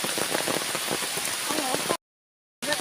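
Heavy rain falls on a rubber plantation in Kerala, a loud, dense, continuous hiss of drops, abruptly cut to silence near the end before resuming briefly.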